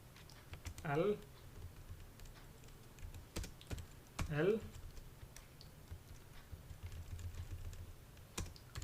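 Keyboard shortcuts tapped on a computer keyboard while working in an Excel spreadsheet, with scattered quick key clicks across the span and someone speaking briefly in two short bursts.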